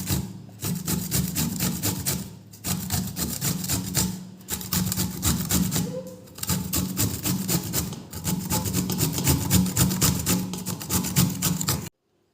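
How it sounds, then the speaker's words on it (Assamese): Ingredients for veg cabbage Manchurian are ground by hand on a traditional grinding stone, making rhythmic, gritty rubbing strokes in close repeated bursts separated by brief pauses. "মই পিহনাত পিচি লওঁ।"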